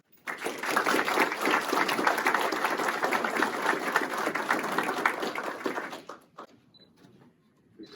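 Audience applause at a county sheriff's department promotion and awards ceremony, a dense burst of clapping from a sizeable crowd lasting about six seconds before fading quickly into room quiet.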